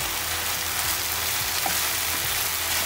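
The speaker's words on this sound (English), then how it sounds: "So keep mixing until the mushroom is cooked" Tuna and mushroom pie filling fries in a pan, giving a steady, close sizzle with soft stirring scrapes mixed in across the short stretch.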